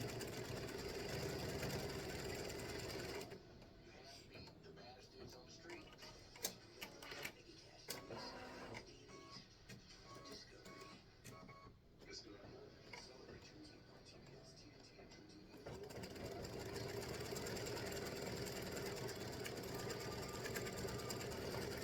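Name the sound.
sewing machine stitching baseball bases and pitcher's mound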